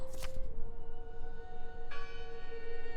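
A church bell ringing in the video game Draugen, sustained metallic tones humming steadily with a fresh strike midway that brightens the ring, heard at moderate distance over a low rumbling background.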